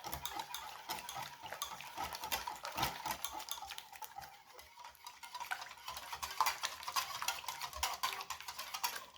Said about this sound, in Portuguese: Agora vamos mexer muito bem, a massa fica líquida mesmo